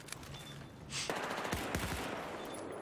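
Gunfire in the shooter Battlefield 4 during a LAN championship match, with a sharp burst near the middle and a run of close rapid shots following.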